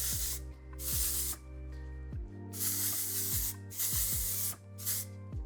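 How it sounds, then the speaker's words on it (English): Several short bursts of texture spray hissing close by as it is sprayed upward into a ponytail, separated by brief pauses, with a low tonal hum underneath. "I'm gonna take a texture spray."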